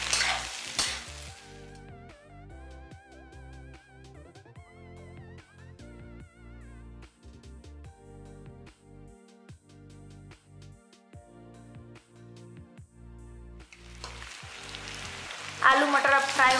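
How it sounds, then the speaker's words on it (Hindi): Potatoes and peas fry in a pan, a continuous close sizzle with stirring scrapes and clatters throughout, louder bursts of crackle at the start and end, and no speech. "थोड़ा देर आलू को फ्राई करेंगे मटर के साथ।"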